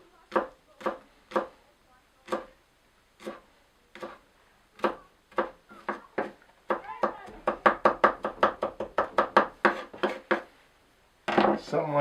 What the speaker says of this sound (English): And then we'll just finish chopping that up.